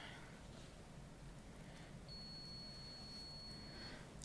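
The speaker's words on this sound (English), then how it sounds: "I don't want this migraine-inducing beeping anymore." A thin, high electronic beep holds steadily for about two seconds over a low murmur of background noise, quiet and coming from a device nearby.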